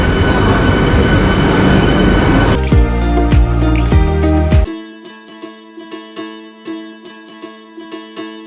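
A train at a railway station with a damaged front, its heavy rumble giving way after a few seconds to tonal wheel and brake noise with a series of rhythmic clicks and knocks, fairly close.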